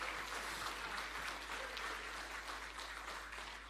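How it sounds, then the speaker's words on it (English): Steady applause from an awards ceremony crowd honouring farm workers, a continuous dense wash of clapping heard from a distance, fairly faint and unbroken, with no speech over it. "can we also give a very big applause to our farm workers who have worked so hard over the years"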